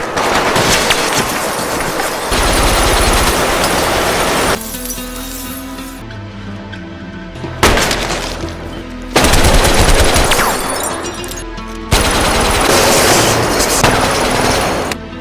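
A loud movie gunfight with bursts of rapid automatic gunfire and single shots, broken by brief pauses and what sounds like shattering glass, all close and intense.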